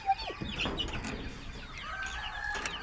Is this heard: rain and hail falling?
no